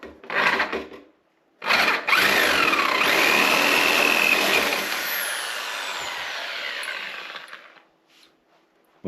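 Power drill boring into a vintage Raleigh bicycle crank arm: a short burst, a pause, then a long loud grinding whir with a shrill squeal that eases and fades before stopping, followed by a brief click.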